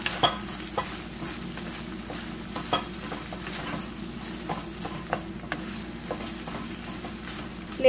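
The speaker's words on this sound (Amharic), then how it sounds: "ከዛም ነጭ ሽንኩርት እና ዝንጅብል እጨምርና አብሬ" Garlic and ginger frying in a pan for Ethiopian awaze tibs give a steady low sizzle, broken by scattered sharp scrapes and clicks of stirring over a constant background hum.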